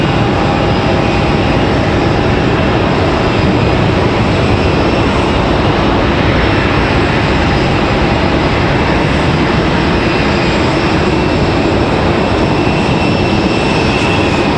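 Jet airliner arriving at Raleigh-Durham International Airport, a loud, steady broadband engine roar that fills the whole stretch without fading, heard close with no talking over it.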